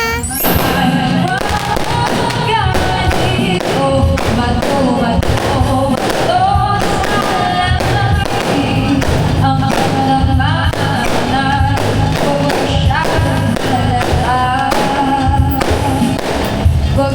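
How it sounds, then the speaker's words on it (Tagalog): Fireworks at a barangay fiesta pop and crackle loudly and almost nonstop, with dense bursts and thumps layered over festive music and crowd noise. "Dito ay may fireworks pa."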